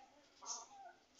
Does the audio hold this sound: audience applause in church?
no